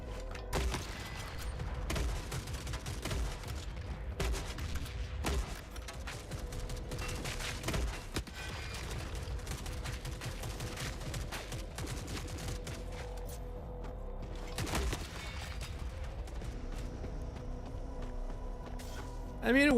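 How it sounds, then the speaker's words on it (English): Sustained gunfire in The Forever Winter video game, a steady stream of sharp shots and volleys over a constant rumbling battle backdrop, running for nearly twenty seconds with occasional heavier blasts. "Stop randomly shooting me."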